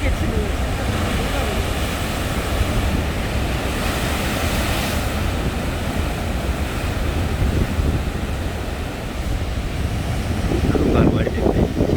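Waves break and wash onto the East Sea shore in a steady loud roar mixed with heavy wind buffeting, with a fresh surge building toward the end.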